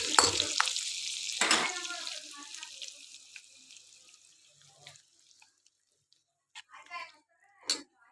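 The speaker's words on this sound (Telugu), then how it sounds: "ఇప్పుడు పోపు అనేది పెట్టుకున్నాను." Spices for a cabbage dal tempering hitting hot oil, a loud crackling sizzle at first that fades quickly into faint, scattered pops and clinks.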